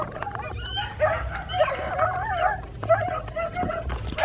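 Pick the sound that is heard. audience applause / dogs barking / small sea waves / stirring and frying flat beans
dogs barking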